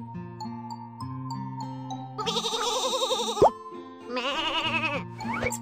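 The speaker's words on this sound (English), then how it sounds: "Your sheep's wool has grown." Cartoonish sheep in a children's farm video game bleat twice in long wavering calls, set against a tinkling, chiming musical background.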